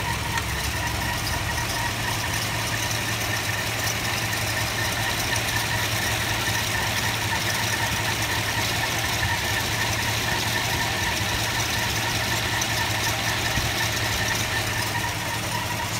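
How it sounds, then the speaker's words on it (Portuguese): A 1969 Ford Galaxie 500 engine idles steadily at 660 RPM, a continuous even rumble with a faint mechanical tick, heard alone and fairly close for the whole stretch. "Eu vou mostrar como está agora na marcha lenta"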